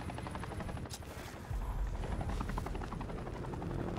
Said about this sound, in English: I don't know if those helicopters are good or bad